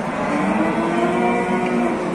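Cattle lowing at a busy livestock market in Çorum, Turkey, a sustained nearby moo layered over a steady crowd and market murmur.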